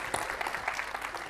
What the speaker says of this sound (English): Let's applaud them for this beautiful performance. A big round of applause.